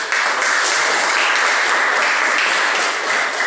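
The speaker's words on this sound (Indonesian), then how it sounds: "Tepuk tangan dulu buat kelompok 1." Students in a physical education class applaud group 1 after a short-distance relay running lesson, a brief burst of brisk, close clapping from a small crowd, steady and fairly loud throughout.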